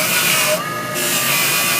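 Pewter cup pressed against a spinning buffing machine, a loud, steady whirring grind with a brief dip in pitch and intensity midway.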